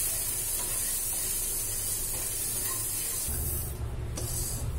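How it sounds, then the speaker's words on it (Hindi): Tempering for coriander raita sizzles steadily in a pan as spices are fried until brown, a broad continuous hiss with a low hum beneath, no talking. "इसको थोड़ा सा भून लेंगे, इसमें रायते के लिए तड़का बन के तैयार हो जाएगा।"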